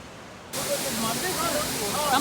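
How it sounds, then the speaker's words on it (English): Big ocean waves crashing against a rock on the shore, a sudden loud roar of surf that swells into sustained rushing spray, with people talking over it. "The waves crashing on this rock"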